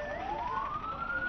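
An ambulance siren sweeps steadily upward in pitch as it pulls away from a fire at an electricity department office in Raipur, clear over a busy roadside background.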